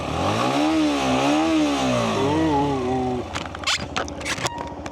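A Benelli motorcycle engine revs and accelerates under way, rising and falling in smooth climbing sweeps before dropping to a rougher, clattering tone near the end, loud and close throughout.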